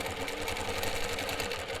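A longarm quilting machine runs continuously on ruler work around a quilt edge, a fast steady rhythmic needle chatter close up, alone without talk.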